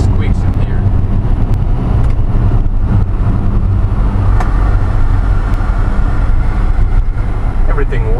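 A 1983 Subaru Sambar kei van drives over a rough, broken road, its steady low engine and road rumble filling the cabin close by, with someone talking over it throughout.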